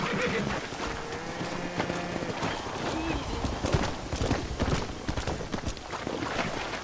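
Horse hooves clip-clopping on a ranch in the Red Dead Redemption video game, a steady irregular patter mixed with game ambience and a voice speaking over it.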